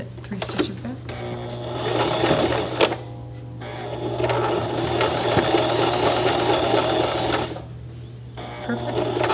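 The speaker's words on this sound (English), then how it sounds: "you're gonna back tack. There you go. Give it 3 stitches back." A sewing machine runs a back tack, its steady mechanical whirring and stitching rattle continuing for several seconds with short pauses, while people talk over it.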